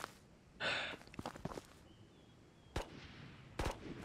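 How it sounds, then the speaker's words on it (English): A few sharp gunshots crack out in separate bursts over quiet background, with faint footsteps and rustling between them, in the video game Escape from Tarkov's Ghosts of Tabor. "Gunshots to the right."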